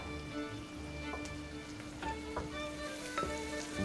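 Onions fry in a pan with a steady close sizzle and crackle, joined by occasional clinks of a utensil stirring, while kitchen hum runs underneath.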